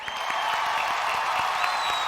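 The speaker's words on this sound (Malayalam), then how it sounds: "ഒരു വലിയ കൈയടി കൊടുക്കാം ഫോർ സൈജു കുറോ" Steady, dense applause from an audience at a televised award show, a continuous wash of many hands clapping at an even level with a faint tone above it and no talk.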